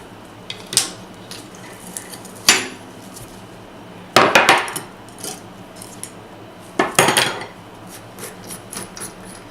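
Bicycle spokes squeezed together by hand give several close, sharp metallic clinks and brief rattles at irregular intervals, with quiet stretches in between.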